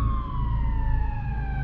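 Emergency vehicle siren from a police-style car with lights on, a loud continuous wailing tone sliding slowly downward in pitch over a low rumbling engine, alone without voices.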